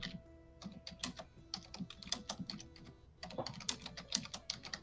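Typing on a computer keyboard, a close, fairly quiet stream of uneven key clicks in quick bursts with brief pauses, with a faint tonal beep in the background.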